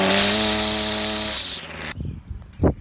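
A tractor's newly fitted horn blares a loud, steady, buzzy honk for about a second and a half, then cuts off into scattered clunks and rattles.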